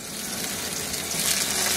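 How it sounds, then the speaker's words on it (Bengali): Eggplant slices fry in hot oil in a frying pan, a steady dense sizzle that builds slightly louder toward the end, close and continuous with no talking. "এই বেগুনগুলোকে আমি ভেজে নিব।"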